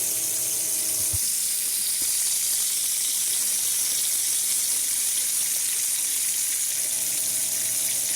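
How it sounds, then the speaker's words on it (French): Water runs steadily from a tap while a boiler's hot water circuit is purged, a constant loud hiss and gush with faint hum at the start and end. "il ne vous reste plus qu'à ouvrir le robinet bleu pour remettre de la pression dans le réseau d'eau chaude et purger celui-ci en ouvrant le robinet"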